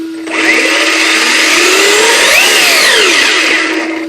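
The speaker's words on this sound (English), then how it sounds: "Listen to that fan. Man, I could cool the house with that sucker." Loud, steady whine of a Team Associated B44.2 RC buggy's electric motor and cooling fan running continuously during differential break-in on a bench, the pitch rising and falling slightly midway.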